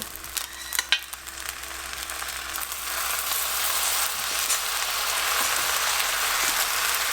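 Teriyaki sauce drizzled into a hot pan sizzles in a loud, steady hiss that builds and holds, with a few small clinks at the start.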